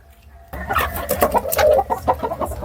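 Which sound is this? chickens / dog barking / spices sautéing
chickens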